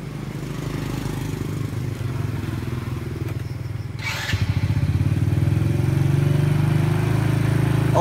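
A motorcycle engine idles steadily at a fixed throttle, a continuous low rumble that grows slightly louder partway through, with no talking.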